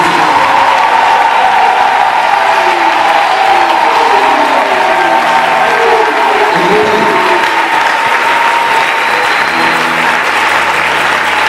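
A church congregation breaks into sustained applause mixed with acclamations and cheering voices during a prophetic sermon, loud and continuous throughout, with a few raised voices rising above the dense clapping.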